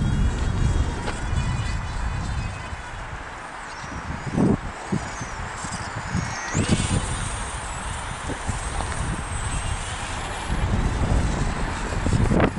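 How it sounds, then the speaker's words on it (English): Strong, cold outdoor wind of about 15 mph buffets the microphone in uneven low rumbling gusts that swell and fade, over a faint high whine in the background. "Wind's really blowing it now."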